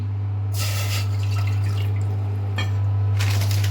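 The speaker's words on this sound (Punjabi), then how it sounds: "ਜਿਹੜੀ ਕੌਲੀ ਨਾਲ ਆਪਾਂ ਬੇਸਨ ਪਾਇਆ ਸੀ ਉਹ ਆਪਾਂ ਅੱਧੀ ਕੌਲੀ ਪਾਣੀ ਦੀ ਪਾ ਕੇ" Half a bowl of water poured into a pan to start sugar syrup for besan barfi, a close splashing trickle with a few brief surges, set over a steady low hum.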